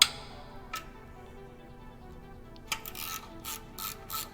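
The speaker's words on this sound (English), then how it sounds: "now we can use a 12mm socket to remove this bolt" Ratchet with a 12mm socket working an exhaust bolt on a Triumph Bobber, a single click followed by pause, then a quick series of sharp ratcheting clicks, close and fairly quiet.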